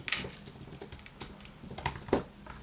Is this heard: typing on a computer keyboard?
yes